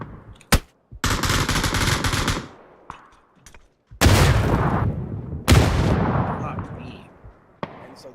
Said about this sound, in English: I don't even know who's shooting.